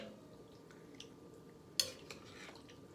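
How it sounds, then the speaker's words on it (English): A spoon stirs white bean chili in a pot, giving a sharp metallic clink and a few soft scrapes and wet sloshes, faint and close in an otherwise quiet kitchen. "I'm gonna give everything a little bit of a stir."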